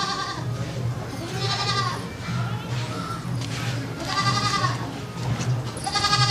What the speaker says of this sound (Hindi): हमार बकरी बोलत है